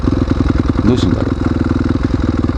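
Off-road motorcycles, a CRF250R and a Serow 250, ride a dirt forest road with a steady, close, chugging engine pulse throughout, while a rider speaks briefly over it.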